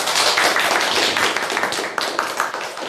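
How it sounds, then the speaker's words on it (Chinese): Classroom of students clapping together in welcome, a dense, steady patter of many hands that holds throughout and tapers slightly toward the end, with faint voices mixed in. "大家鼓掌欢迎"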